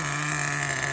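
Old nitro engine of a Losi XXXNT RC truck running roughly at idle, a steady buzzing drone with a strong low hum and high whine, close and constant with no voices.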